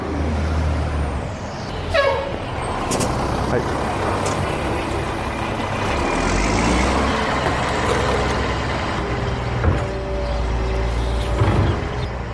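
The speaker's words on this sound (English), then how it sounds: "I turned down a block to avoid the garbage truck, and then they turned down the street and followed me" A garbage truck rumbles close by in the street, with sharp air-brake hisses and faint reversing beeps over continuous engine and traffic noise, while someone talks.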